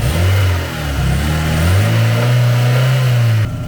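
An old Volvo B16 engine revs up close and loud in several rising and falling pulls of a throaty mechanical tone, then a longer sustained rev that cuts off abruptly near the end.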